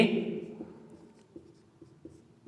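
Chalk or a marker writes numbers on a classroom board during a maths lesson. The soft scratches and taps are faint and intermittent, following a teacher's speech that trails off at the start.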